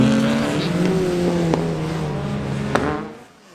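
An 1800cc Vauxhall Corsa race car at Nutts Corner circuit, its engine droning steadily at high revs as it passes, with a couple of sharp clicks, before the sound drops away at the end.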